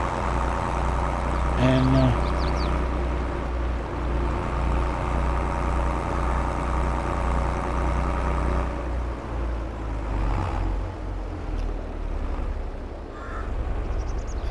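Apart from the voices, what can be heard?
tractor engine running while ridging a field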